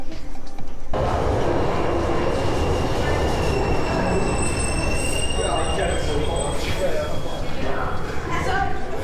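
Loud, constant rumble inside a moving Budapest metro carriage, with high-pitched wheel squeals rising and fading over the roar.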